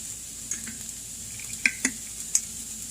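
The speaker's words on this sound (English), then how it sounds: "give this some good stirs here" Keto burrito filling stirred in a pan over low heat, with soft sizzling under a handful of sharp spoon-on-pan clinks spaced irregularly, close and fairly quiet.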